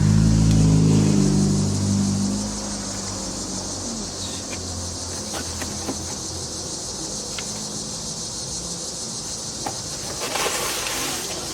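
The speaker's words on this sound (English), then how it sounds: "And there goes a car." A car passes at a moderate distance outdoors, its engine rumble loudest at first and then fading into a steady background of insect chirring and outdoor noise.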